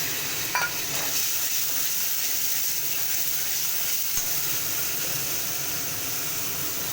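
Fenugreek seeds tempering in hot oil for a spinach dish give a steady, moderate crackle and hiss throughout, with a few sharper pops near the start and around the middle, and no voices.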